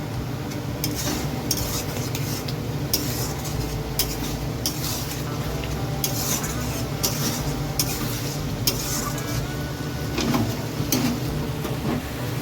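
A pan dish with soy sauce and vinegar just added is stirred briskly with a utensil, giving steady scraping and soft clinks against the pan over a continuous low sizzle, close and fairly even throughout.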